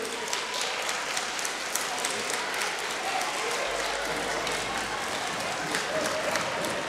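A roomful of people applauds steadily at a Francophonie Day gathering, greeting a Korean student as she stands; dense, even clapping with a faint murmur of voices underneath.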